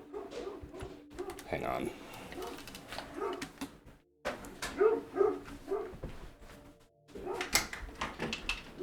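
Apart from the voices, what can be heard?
pet dog barking in the room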